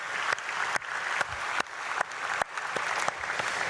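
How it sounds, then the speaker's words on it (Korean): A church congregation applauds in a dense, steady wash of clapping that carries on through the whole stretch, with a few sharper individual claps standing out and no voices over it. "우리 박수로 축복하겠습니다"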